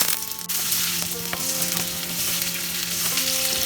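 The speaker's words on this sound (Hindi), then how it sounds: "अभी मैं परवल फ्राई करूंगी।" Pointed gourd (potol) fries in a pan, a loud, steady close sizzle with occasional clinks and stirring scrapes.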